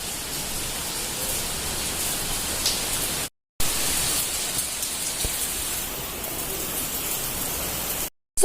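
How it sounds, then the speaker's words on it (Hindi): Steady rain falls outside, a continuous hissing wash of drops on surfaces with no distinct rhythm, broken by two brief silent gaps. "बाहर बैठ के वीडियो एडिट ही नहीं कर सकते, बारिश की आवाज़ आ रही है।"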